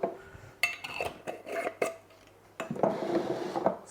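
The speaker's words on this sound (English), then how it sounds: "I'm going to chuck my lids on here" Metal lids are set onto glass jars in a kitchen, giving a series of sharp clinks and clatters separated by brief pauses and followed by a scraping, rattling handling noise. No one speaks.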